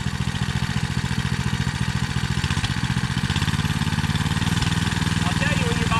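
Small engine of a child's mini bike running steadily nearby, a constant buzzing idle-like drone with slight pitch changes throughout.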